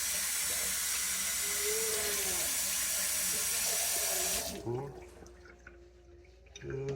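Hot water runs steadily from a newly installed kitchen faucet, a loud, even hiss that cuts off abruptly partway through and leaves a quieter room with a faint voice.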